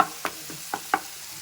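Egg gravy ingredients in a pan on the stove, a soft steady sizzle with a few faint stirring scrapes, quiet and close.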